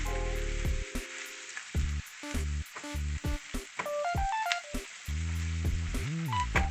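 Ground beef sizzling in a pan for sloppy joe pasta, frying steadily up close with repeated scraping stirs, punctuated by short tonal clanks and beeps over the crackle.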